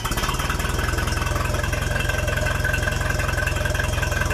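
A 1966 Unimog U 302 truck engine idling through a new muffler, a loud, close, steady low chugging pulse with an even rhythm and no voices.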